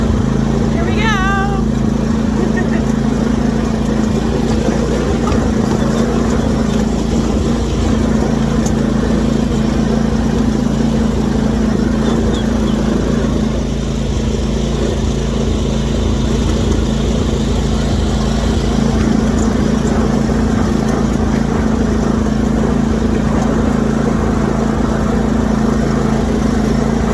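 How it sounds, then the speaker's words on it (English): Small riding yard tractor engine running steadily throughout a ride, a constant close mid-pitched drone with a chirp of a bird or small animal near the start and people talking over it. "We're going for a ride in the little yard tractor."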